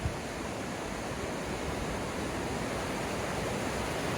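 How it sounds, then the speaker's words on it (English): A roadside waterfall on Mount Rainier pours in a steady, dense broadband rush, close and continuous with no talk over it. "what's awesome about these roadside waterfalls is you can get right up to them and you can stand right over them"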